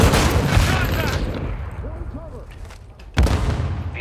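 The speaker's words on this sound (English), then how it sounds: "Throwing flash grenade!" Battlefield din in Call of Duty Modern Warfare II: steady gunfire and rumble, then a flash grenade's sudden loud bang bursts in near the end over the ongoing firefight.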